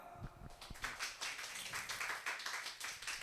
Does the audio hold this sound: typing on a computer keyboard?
no